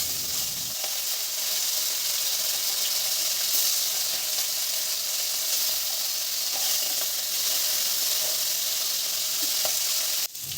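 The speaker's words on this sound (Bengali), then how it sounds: "মাছগুলো আমি ভেজে নেব, একটু মাছে লবণ আর হলুদ দিয়ে ভেজে নিচ্ছি।" Pomfret pieces rubbed with salt and turmeric fry in hot oil in a home kitchen, giving a steady, loud, close sizzle that holds evenly throughout with no talking.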